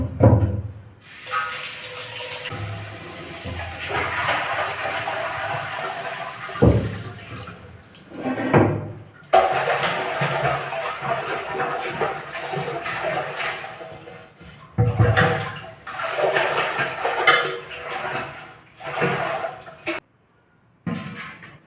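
Water runs and splashes inside a clay matka as it is rinsed, a steady close gush with sloshing bursts, brief pauses around the middle and a short silent gap near the end.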